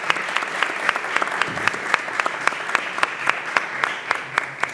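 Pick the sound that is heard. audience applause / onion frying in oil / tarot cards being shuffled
audience applause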